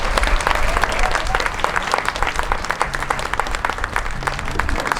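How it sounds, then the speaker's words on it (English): A festival audience at a Juneteenth jazz and heritage celebration breaks into loud, sustained applause, a dense, steady wash of many hands clapping that holds evenly throughout. "Let's give him another big round of applause"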